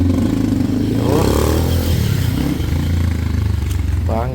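A pink motorcycle with a hard-starting engine, long unused, fires up and runs at a steady, loud idle close by, with a brief rev rising partway through and some rattling and clatter on top of the engine note.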